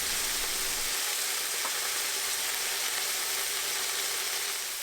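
Pork chops fry on high heat in a hot pan for a Vietnamese-style dish, giving a steady, loud, close sizzle that runs unbroken throughout with no voices.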